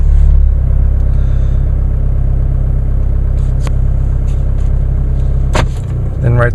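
2016 Chevrolet Colorado Duramax diesel engine idling after a cold start, a loud, steady low rumble close by, with a brief dip and a few clicks toward the end.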